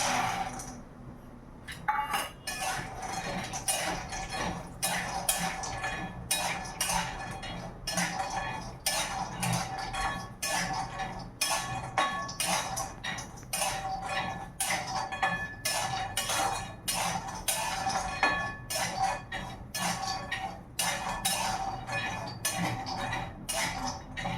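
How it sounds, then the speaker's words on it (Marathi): Cashews, almonds and seeds are stirred while roasting in ghee in a metal pan, giving a close, continuous run of sharp clinks and scrapes of a spoon against the pan with no talk. "थोडंसं तूप टाकायचं आणि तूप टाकून जे आहे तर आपल्याला पूर्ण हे काजू बदाम हे बिया जे आहे तर हे आपल्याला भाजून घ्यायचे आहे."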